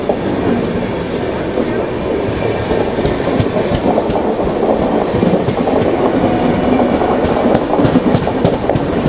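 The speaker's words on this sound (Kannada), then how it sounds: "ಕೊಯಂಬತ್ತೂರು ಎಕ್ಸ್ಪ್ರೆಸ್ ಇದು." The Coimbatore Express, running from Mumbai LTT to Coimbatore, rolls past nearby in a continuous loud rumble with rhythmic clickety-clack of wheels over rail joints and occasional faint squeals.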